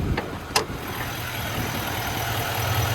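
Duramax 6.6 diesel engine in a 2026 GMC Sierra 2500HD Denali Ultimate idling, heard as a steady low rumble with a couple of brief clicks near the start, moderately close and without speech.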